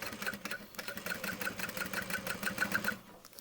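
A sewing machine stitches a leather convertible backpack seam at 3/8 inch. Its rapid rhythmic needle ticks run close and steady the whole time, then stop at the very end.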